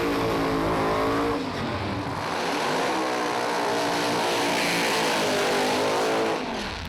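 Doorslammer drag race cars scream down the strip in an elimination run. The loud, sustained engine roar rises and falls in pitch as they accelerate, then fades slightly at the end.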